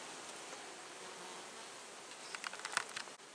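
A soft, steady hum of a crowded bee colony in a hive, faint and even, with a few light taps and rustles toward the end.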